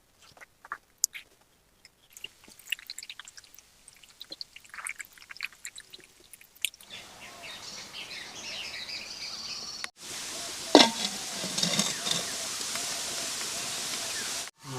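Rice grains being rinsed by hand in water ahead of cooking, with scattered splashes and clicks giving way to a steady swishing, pouring wash that turns louder and fuller toward the end.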